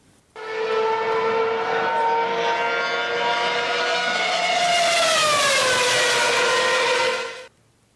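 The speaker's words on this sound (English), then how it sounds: "Similar to the engine noise of the race car" A race car engine passes by: a steady, loud harmonic drone holds for several seconds, then its pitch slides noticeably lower as the car goes past and recedes, with no voices.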